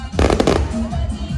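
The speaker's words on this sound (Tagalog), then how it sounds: "Yung fireworks" Fireworks crackle and pop in a quick burst of bangs outdoors, with a voice talking over the noise.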